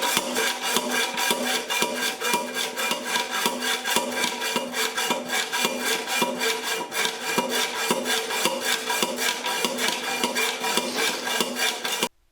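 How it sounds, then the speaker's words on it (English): Hand hacksaw cutting through an exhaust pipe flange under a 1998 Chevrolet Blazer, fast, even back-and-forth rasping strokes repeating steadily at close range. "I'm just going to use old school hacksaw and cut the flange off"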